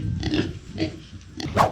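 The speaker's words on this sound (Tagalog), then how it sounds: "Malaki na pala ang baboy nila ito eh." A large farm pig grunts outdoors in a few separate low, rough bursts. A louder grunt comes close near the end, with quiet gaps between the calls.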